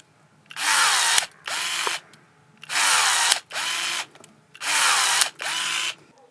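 Parkside 4V cordless electric pruning shears cut through dry mirabelle plum wood, six loud motorized whirring bursts coming in pairs, each about half a second long, close to the microphone with short pauses between them.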